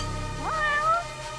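A cat in the video game Judgment gives a single clear meow, rising and then falling in pitch, against a quiet low hum from the game.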